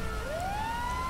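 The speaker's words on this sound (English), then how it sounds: "Looks like our EMS ambulance is showing up finally." An EMS ambulance siren in the video game LSPDFR wails and rises steadily in pitch, a single loud sweep heard alone over low traffic rumble.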